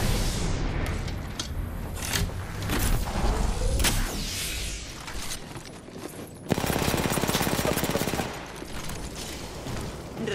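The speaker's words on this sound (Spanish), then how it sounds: "Me han descubierto, estoy recibiendo disparos." Dense gunfire in the battle royale game Apex Legends: sustained automatic bursts and booming shots that ebb and surge over the full stretch, with a sharp, louder volley breaking in midway.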